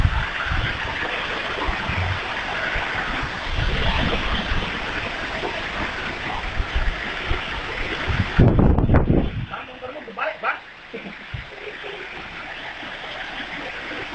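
Strong wind in Blora gusts continuously and buffets the microphone, a loud rushing roar with a sharp gust burst partway through, followed by quieter wind; people talk through much of it.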